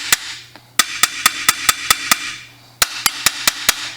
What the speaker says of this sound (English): it's really important to have a hammer with a convex face polished up real nicely